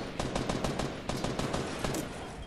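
Rapid automatic gunfire in Fortnite, a dense burst of loud, closely spaced shots rattling off almost continuously for a couple of seconds.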